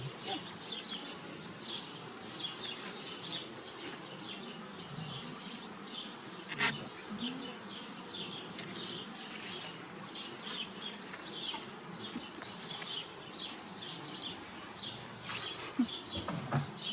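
Dense buzzing of a mass of honey bees at an apiary hive, steady and close throughout with occasional bumps and handling sounds.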